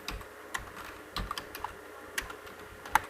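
Keys clatter on a computer keyboard as C code is typed, a run of irregular close clicks and taps with occasional sharper strikes, no voices.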